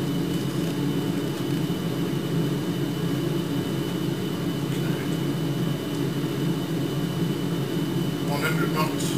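Jet airliner engines spool up for takeoff in a flight simulator, a steady loud broadband roar and whine under continuous cockpit radio talk.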